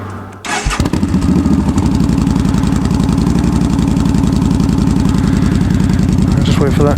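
Yamaha V Star 1300 motorcycle engine starts after a brief quiet moment, then settles into a steady, loud, close idle with a rapid even rumble throughout.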